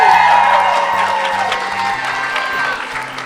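A Game On Expo 2024 audience greets the Resident Evil panel with loud, dense cheering and applause, a steady roar over a low, repeating music riff throughout.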